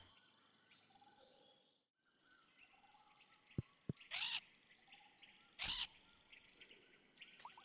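Birdlike parrot squawks and chirps in the Stardew Valley video game, on the volcano island, two bright bursts standing out over a quiet ambient game soundscape with a couple of sharp clicks.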